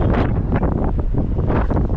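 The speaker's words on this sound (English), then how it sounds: "I'm just covering it up with my hand because it's really windy" Heavy wind buffeting a microphone on the coast at Sidi Kaouki near Essaouira, a loud continuous roar and rumble for two seconds with no voices.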